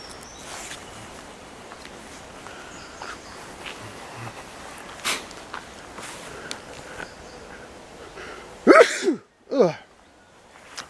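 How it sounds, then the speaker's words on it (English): A person sneezes in a quiet spring woodland, one or two sharp bursts standing out near the end, close and loud against faint rustling and footsteps. "If you sneezed, bless you."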